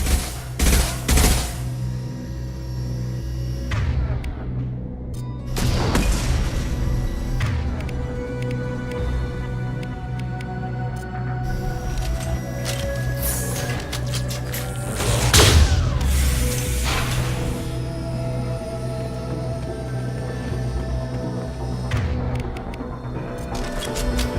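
Gunfire and explosions from Mass Effect 2 as weapons fire on fuel tanks: rapid bursts of shots, heavy booming blasts and rumbling debris layered with game music, loud and dense throughout.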